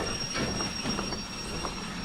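Trains rolling in the train simulator Derail Valley, a steady rumble of wheels on track with squealing wheels and clickety-clack, heard continuously at moderate distance with no talking.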